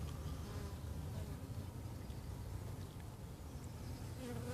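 Honey bees buzz in a brand-new hive where they have just begun building comb, a dense steady hum that fills the whole stretch at low volume with no talking.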